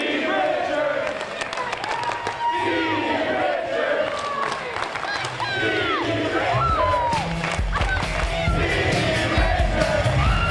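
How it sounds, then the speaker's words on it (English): A hostile Kansas City wrestling crowd roars and cheers for Steven Richards, a loud, dense wall of shouting, whooping and clapping that keeps up throughout, with voices and calls rising out of the din. "This hostile Kansas City crowd is pro Richards."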